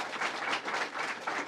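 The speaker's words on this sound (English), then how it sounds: "Let's give him a round of applause." Applause from an audience for a school district superintendent at a New York public event, a soft, even wash of many hands clapping, distant and steady.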